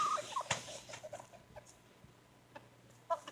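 Polish chickens make soft, faint clucks and brief calls, a few scattered sounds over a quiet outdoor background.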